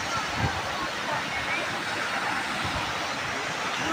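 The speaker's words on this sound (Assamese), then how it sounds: "এইটো হৈছে সেভেন সিস্টাৰ্ছ ৱাটাৰফল সেভেন সিস্টাৰ জলপ্ৰপাত" Seven Sisters waterfall near Cherrapunji in Meghalaya roars as a steady, broad wash of falling water, constant and full with no pauses, heard from a viewpoint.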